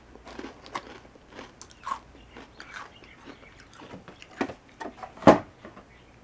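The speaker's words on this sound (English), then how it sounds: "I want to eat some cookies." Chocolate chip cookies being bitten and chewed close to the mic, with irregular crunchy bites and softer chewing between them and one sharp crunch near the end, no talking.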